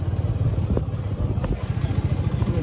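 A motorcycle engine runs steadily with a low, continuous throbbing rumble close by, unchanging in pitch throughout, with no talk over it.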